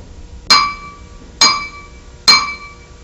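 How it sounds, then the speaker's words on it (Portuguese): A drumstick strikes a glass cup of water three times at an even pace, each hit a bright ringing clink that decays quickly, loud and close with no talk. "quando eu bater com a baqueta no copo"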